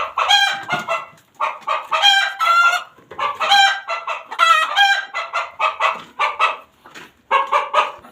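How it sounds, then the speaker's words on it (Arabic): Chickens raised in a home coop, heard up close in a lively run of clucks and squawks, some drawn-out crowing-like calls, with a dog barking faintly in the background. "احنا قلنا هنقعد فتره كده ونوريكم الفراخ بعد ما تكبر اهو"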